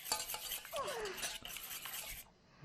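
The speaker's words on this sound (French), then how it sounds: "je fais faire fondre mon beurre, je rajoute le même poids de farine, je touille" A butter and flour roux stirred in a pan for a braised beef sauce, a utensil scraping and clinking against the pan in quick strokes with a light sizzle, close and fairly quiet, ending abruptly.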